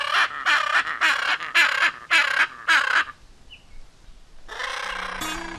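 A hyacinth macaw in the Brazilian wild gives a run of six loud, harsh, raspy calls in steady rhythm, followed by a short lull and a burst of rustling noise.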